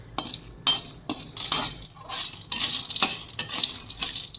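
Raw peanuts dry roasting in a kadai, stirred with a metal utensil that scrapes and clinks against the pan in a steady, fairly loud rhythm, with a faint rattle of nuts.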